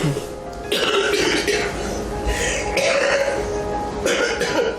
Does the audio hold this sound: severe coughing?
yes